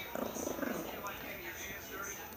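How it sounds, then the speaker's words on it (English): A dog guarding its food lets out a low, rumbling growl in a brief pulsing burst, close by, followed by quieter background sound and a voice nearby. "Growling."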